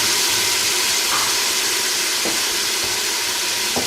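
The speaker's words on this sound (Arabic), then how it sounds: "في الطنجره غادي نقوموا بتشحير البصله ديالنا في الزيت كما كتشوفوا" Chopped onion fries in a pot of olive oil and vegetable oil, giving a loud, steady hiss and crackle of sizzling throughout, with a few faint stirring clicks.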